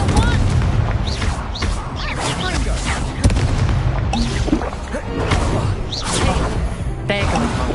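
An Incendio fire spell cast during a wizard duel in a Harry Potter video game, loud booming and whooshing bursts crackling through a busy mix.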